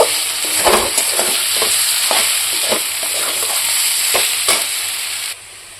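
Small parshe fish curry sizzles in a hot pan with turmeric and cumin powder, a steady frying hiss broken by repeated scraping stirs of a spatula, close and fairly loud, ending abruptly into quieter sizzle.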